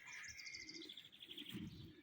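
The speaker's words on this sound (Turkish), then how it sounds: "Kuşlar ötüyor" Small birds chirp and trill in quick repeated notes, bright and close, over a soft low background murmur.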